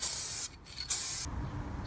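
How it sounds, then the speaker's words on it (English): Zinc primer spray paint hisses out of an aerosol can in two short, close bursts separated by a brief pause, then stops. "I first went over it with this zinc primer spray"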